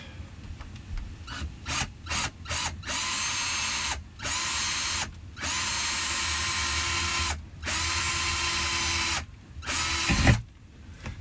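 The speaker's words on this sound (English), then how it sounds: "let's go in here and drill some holes" A power drill with a 5/32 inch bit whirs in several sustained bursts separated by short pauses, loud and close, biting into material with a grinding rasp, drilling holes inside an RV bedroom.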